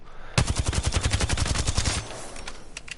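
A rapid burst of automatic gunfire aimed at a bot in Apex Legends, loud and close, roughly fifteen evenly spaced shots over about a second and a half, followed by a few sparse, fainter clicks and pops.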